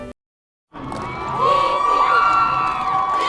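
After a short silence, a high school football crowd at the Bluffton versus Hilton Head Island game breaks into loud cheering with shouts and whoops that build and hold steady.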